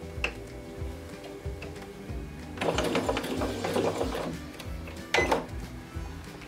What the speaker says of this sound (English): Now we will take our fabric. Then start stitching.